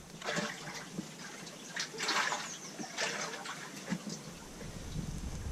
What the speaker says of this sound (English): So I'm going to mix all that sediment into this water